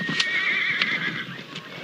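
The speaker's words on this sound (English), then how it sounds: "He was too much horse for you, Adam" A horse whinnies in a high, wavering neigh at close range over a steady rhythmic clip-clop of hooves in a western ranch setting.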